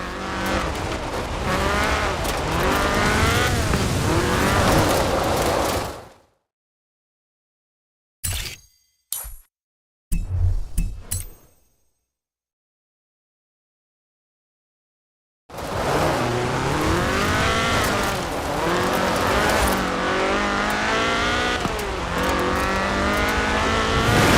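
Ford RS 1800 rally car with a fuel-injected 1790cc Cosworth BDE engine racing in Forza Horizon 4, loud close engine revving with rising and falling gear pitches, a long silent gap with brief clicks midway, then hard revving again.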